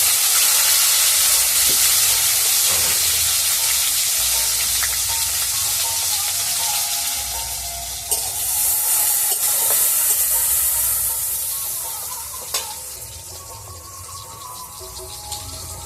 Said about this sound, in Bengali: এবার আমি টমেটো কুচিটা দিয়ে দিচ্ছি তেলের মধ্যে।